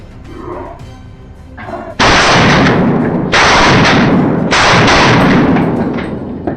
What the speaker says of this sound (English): a burst of gunfire ripped through the still evening air